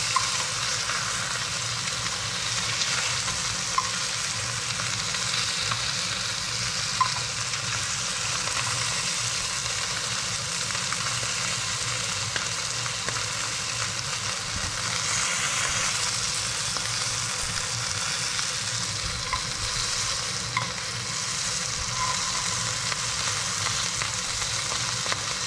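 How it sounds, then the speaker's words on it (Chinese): A fish fillet pan-fries skin-side down over low heat, giving a steady, close sizzle and crackle that runs continuously with occasional soft stirring or scraping sounds. "我想煎一下它的皮。"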